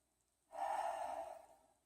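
A single deep breath during a yoga session, a soft, close exhale that swells suddenly after a moment of silence and then slowly fades.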